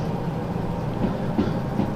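Train rolling along rails in the Derail Valley video game, a steady low rumble with faint rhythmic clunks, continuous and unbroken over two seconds.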